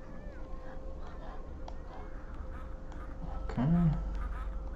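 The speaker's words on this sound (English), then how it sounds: "Oh, so many ducks." Ducks in the 3DO horror video game Killing Time give a short quack near the end, heard over a steady rushing ambient background.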